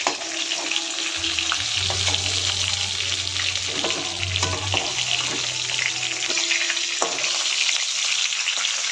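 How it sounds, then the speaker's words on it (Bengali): Rohu fish frying in hot oil for a kaliya curry: a steady, close sizzle runs throughout with occasional stirring scrapes and a low hum from the stove. "এখনো মাছ ভাজা চলছে, মাছগুলো তুলে নিই।"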